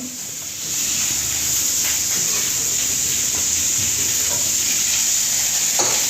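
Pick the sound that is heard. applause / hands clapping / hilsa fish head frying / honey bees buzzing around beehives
hilsa fish head frying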